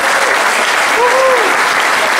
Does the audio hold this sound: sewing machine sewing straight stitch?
no